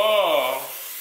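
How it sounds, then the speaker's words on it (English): A single short burst of Pam cooking spray hisses into a pan, close up and fading within a second. "So you take some Pam and spray it in the pan."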